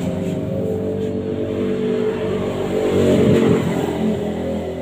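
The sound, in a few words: Yamaha Sniper 150 motorcycle engine revving with aftermarket exhaust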